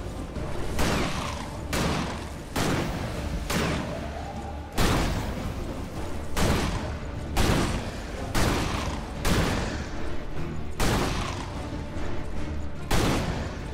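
Repeated gunfire bursts from a gun and a shotgun in the action RPG Victor Vran, loud and close, a dozen or so heavy booming blasts in an irregular rhythm over a dense, continuous game soundscape.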